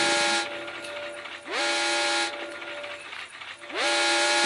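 Train in the Granny 3 horror video game, with a sustained mechanical rumble and whistle-like tones that rise and swell in repeated waves, fairly loud with no talking.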